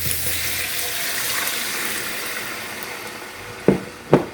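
About 2.5 cups of water pour steadily into a pot of browned sausage and onions, making a continuous rushing splash. Two dull knocks follow near the end.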